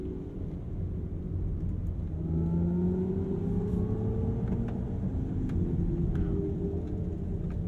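Inside a Mercedes-Benz EQE electric sedan, a steady low road and wind rumble grows slightly louder as the car accelerates out of a corner, with a faint rising motor tone.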